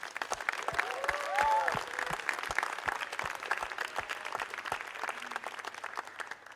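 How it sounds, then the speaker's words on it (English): An audience claps for youth performers at a TEDxRWA Youth event, a moderate and somewhat scattered applause of distinct claps with a faint murmur of voices beneath. "So I think we should give them a round of applause."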